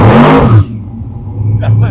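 A 1,000-horsepower 1957 Nash car engine roars loudly as it revs and accelerates, then drops to a steady low rumble that holds for the rest of the moment.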